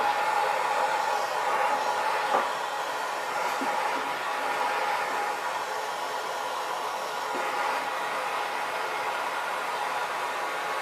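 A small torch burns with a steady, broadband roaring hiss as it heats a stuck part on a 1974 Gravely 812 tractor. The sound stays constant and close, with no talking.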